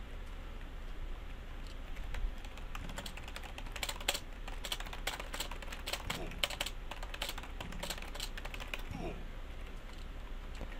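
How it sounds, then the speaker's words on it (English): Rapid typing clatters on a computer keyboard during a PvP game session, keys tapping in quick irregular bursts close to the microphone over a steady background hiss. "Trying to type."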